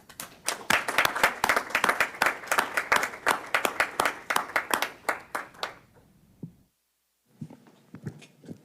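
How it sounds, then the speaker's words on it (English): A small group at a school board meeting applauds with steady, close hand claps for several seconds, then the clapping stops and a few quiet voices follow. "give the difference maker and his team a round of applause"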